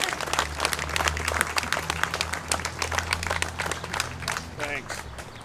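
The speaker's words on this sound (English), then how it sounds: "And applause, he deserves it." Applause honoring Judge Chip Henry at his 10-year celebration: a steady room-filling wash of clapping from a crowd, holding for several seconds before beginning to thin.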